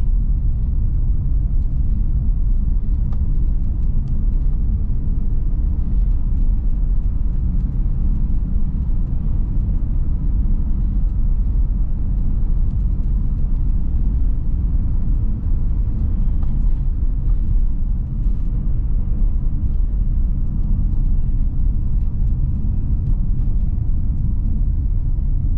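A Renault Master ZE electric minibus on the move, heard from inside as a steady, even low road rumble with no engine note, unbroken throughout and with no talking.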